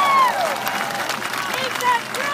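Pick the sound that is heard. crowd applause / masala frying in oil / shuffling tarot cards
crowd applause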